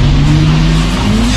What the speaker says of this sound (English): It's not long before the car's out on the track.